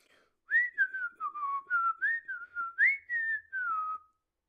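A person whistles a short melodic tune of about a dozen clear, sliding notes in a quick, steady rhythm, close and alone in a quiet room.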